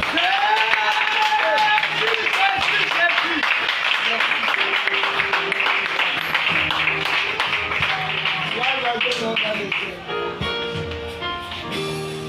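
A church congregation claps and cheers in acclamation of the Lord, steady loud applause filling the room alongside voices and music, with the clapping thinning slightly toward the end.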